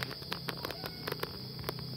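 Crickets chirp in a corn field, a close, steady high-pitched trill cut by sharp repeated clicks and pulses, with no voices over it.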